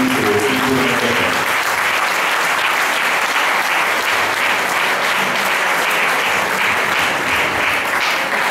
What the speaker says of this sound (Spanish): un aplauso para los dos y particularmente a Jordi en su regreso